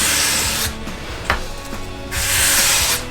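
A Mora Companion knife is drawn across a sharpening stone in two long rasping strokes separated by a pause with a small knock, close and clear with no talking.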